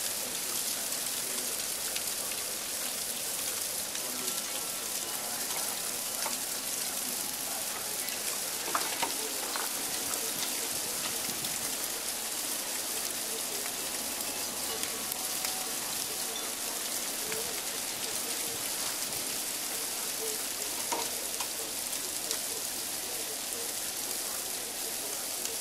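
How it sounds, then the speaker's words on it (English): Heavy sleet during a February snow storm, a continuous hiss of ice pellets striking surfaces that stays fairly even and close, with a few louder ticks now and then and no talking. "But this is serious sleet."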